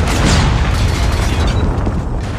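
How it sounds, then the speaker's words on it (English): A loud, sustained Predator missile blast in Call of Duty Mobile during a ranked multiplayer match, a deep rumbling explosion that fills the whole clip with heavy low-end boom and crackling debris. "Predator missile inbound."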